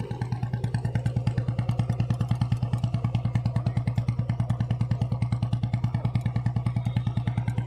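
A loud modified Royal Enfield Bullet Standard motorcycle idles close by at about 1100 RPM, its exhaust thumping in a fast, even, heavy beat that never changes pace.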